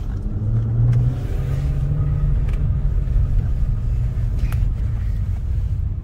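A car engine runs close by with a steady, deep rumble, holding an even, loud drone throughout with no voices over it.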